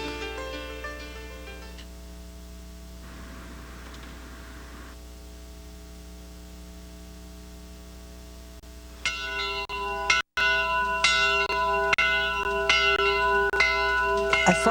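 A church bell rings in long, sustained metallic tones, steady and fairly soft at first, then struck louder with fresh clangs piling up in the last few seconds, with no voices over it.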